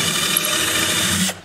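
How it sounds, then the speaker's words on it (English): A power drill runs steadily as it re-drills holes that have filled in with glue, a close, continuous whine that holds for over a second before cutting off abruptly near the end. "The holes have filled in with glue, so I'm gonna re-drill those."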